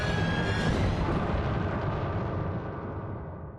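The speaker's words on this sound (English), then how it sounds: "The very same second as Oleander sneezes, an explosion happens and the building is starting to collapse on Lili and Raz." A loud, sustained rumbling roar of an explosion and a building collapsing in the video game Psychonauts, with a dense low-frequency crash that holds steady and slowly fades over a few seconds, no talking.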